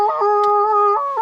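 A dog gives a drawn-out, tonal howling whine, close and loud, that holds steady and shifts pitch a few times over about a second.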